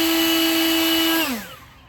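An EGO cordless leaf blower whines steadily with a loud high-pitched motor tone, then spins down as it shuts off near the end.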